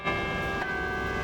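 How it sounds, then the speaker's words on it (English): The carillon bells in BYU's bell tower ring with sustained, overlapping metallic tones, heard from close by for a brief moment. "You've heard the Cougar fight song before, but never from the inside of the bell tower."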